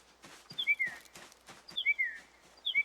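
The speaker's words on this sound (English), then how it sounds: "That's a loud bird." A loud bird in the video game Project Zomboid repeats a clear whistled call three times at steady intervals, set against soft thuds and rustling nearby.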